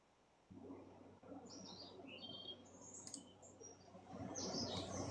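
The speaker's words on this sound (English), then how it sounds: "I hear the birds" Bird chirps and tweets come through a call-in audio feed, small high calls scattered over a steady low hum.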